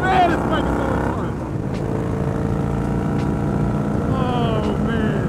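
A Victory Gunner cruiser motorcycle cruising at speed, its engine drone steady and loud under constant wind rush, with a rider talking briefly over it.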